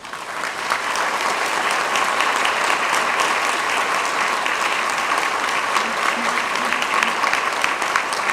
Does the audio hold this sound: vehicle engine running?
no